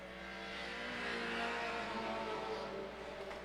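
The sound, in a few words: stock cars racing on a speedway oval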